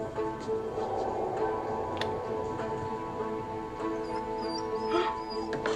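A puppy shut in a box whimpers with faint, thin, high whines that come and go over a steady murmur of background sound.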